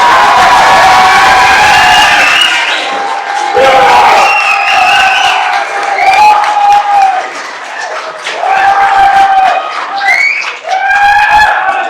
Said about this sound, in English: please stand proudly and clap loudly